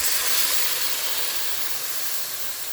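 Cold milk poured onto hot ghee-roasted vermicelli for sheer khurma gives a loud, steady steam hiss that fades slightly over a few seconds, with no voices.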